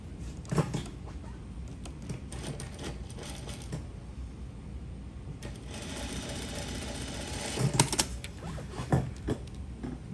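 Domestic sewing machine running under stitching on a garment with an invisible zip, a steady mechanical whir over about ten seconds with brief pauses and louder bursts near the end.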